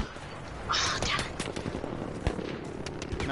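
Sniper and gunfire shots in a video game battle near a tank, a few sharp cracks and scattered rapid pops at moderate distance amid a busy background.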